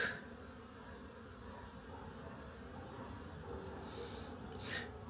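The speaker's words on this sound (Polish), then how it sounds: "Pszczoły jeszcze znoszą pyłek." Low steady buzzing of many bees around a hive, a constant insect drone with a louder pass near the end.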